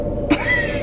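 A single short, muffled cough close by, quick and abrupt against a quiet background hum.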